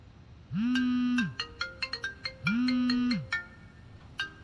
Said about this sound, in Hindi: तुम्हारे डैडी का फोन आया है।